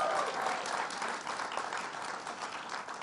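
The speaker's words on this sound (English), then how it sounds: "Let's give her a round of applause." Audience applause at a Governor Cuomo event at Buffalo State College greets Patty Thomas, a dense, even wash of clapping from a sizable crowd that holds steady and tapers slightly toward the end.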